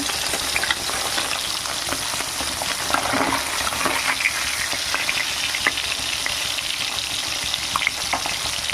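Taki fish fry in hot oil, a dense, steady sizzle and crackle that holds evenly throughout, with small pops and faint scraping clicks and no talking.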